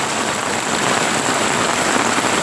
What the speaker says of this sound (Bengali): পাহাড়ের উপর দিয়ে প্রচুর পরিমাণে বৃষ্টির জল নামছে।